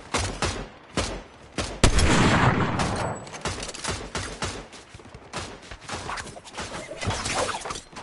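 Eagle Eye Enforcer AR fired in a video game: loud bursts of rapid automatic gunfire with sharp crashing reports, sustained and close, with brief pauses between volleys.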